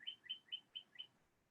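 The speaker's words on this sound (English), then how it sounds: "Or the birds chirping" A bird gives five quick, evenly spaced chirps, faint and fairly distant, against a quiet background.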